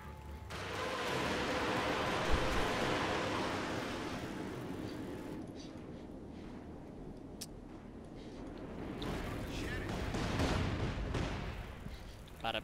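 Panzerwerfer rocket barrage in Company of Heroes 2, a dense run of booming explosions and crackling blasts rolling on for several seconds, swelling again near the end, with no speech over it.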